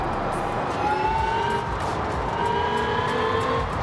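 A Hyundai N Vision 74 hydrogen-powered car driving in Forza Horizon 5, giving off a steady electric whine with faint rising tones over a constant broad rush, close and moderately loud, with no talking.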